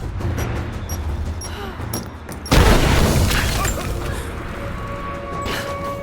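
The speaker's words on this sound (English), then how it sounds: "Grenade out!" In Rise of the Tomb Raider combat, scattered gunshots and clanks give way to a loud, sudden grenade explosion midway, followed by a long rumbling, debris-filled tail.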